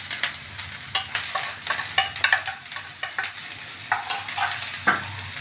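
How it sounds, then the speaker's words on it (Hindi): Ground spices, including red chili, coriander powder, salt and nigella seeds, fry in a pan for a capsicum and potato dish. Close, repeated spatula scrapes and clinks run over a steady sizzle. "सारे मसालों को हमने अच्छे से फ्राई करना है।"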